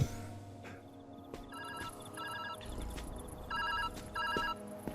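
A telephone in the video game Viewfinder rings in repeated short electronic trills, interrupted by brief pauses, over a faint game ambience with a soft thump early on.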